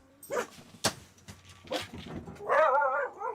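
A dog barks at the mailman in a few short, sharp barks close by, ending in a rising whimpering whine, with quiet room sound between.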